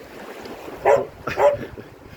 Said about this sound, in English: she was barking at me